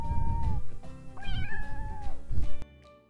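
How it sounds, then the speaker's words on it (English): A domestic cat meows clearly and close, a few drawn-out, wavering cries in sequence, with no talk over them. "The animal on the left side is a cat."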